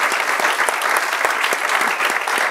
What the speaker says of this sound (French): Je vais vous proposer de remercier et d'applaudir très chaleureusement nos 3 invités